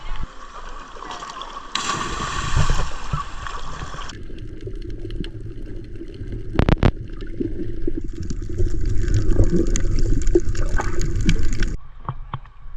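Water sloshes and splashes around, with a sudden plunge of a person backflipping into the sea at Kealakekua Bay, Hawaii, followed by a rushing, bubbly underwater churn.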